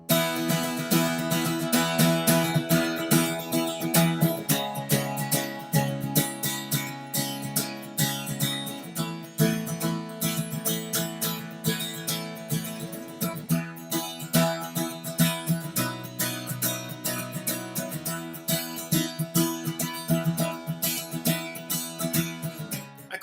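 Guitar plays a steady, rhythmic bluegrass groove in E with bright picked attacks, continuous and moderately loud, no voices.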